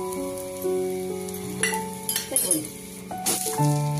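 Jowar flatbread (ghavan) frying in a little oil in a kadhai, a soft sizzle with occasional light clinks and bursts of hiss, heard beneath steady background music.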